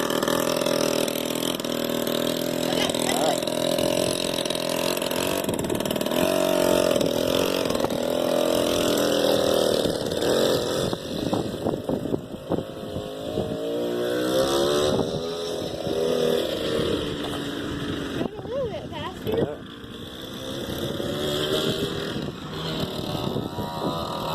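An antique 1986 four-wheeler ATV engine runs close by with a steady buzzing drone, then revs and falls a few times as it drives. The engine keeps going without a break throughout.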